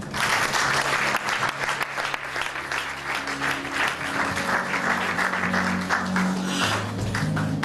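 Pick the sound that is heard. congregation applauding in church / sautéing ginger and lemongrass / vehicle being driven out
congregation applauding in church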